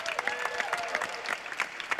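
An indoor audience claps in sustained, dense applause at a Diwali celebration in a chapel, a steady wash of many hands throughout.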